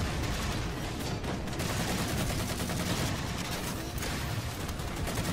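Dense, continuous gunfire from a Halo 4 match, a steady loud barrage of rapid shots and explosions filling the whole stretch with no real pauses.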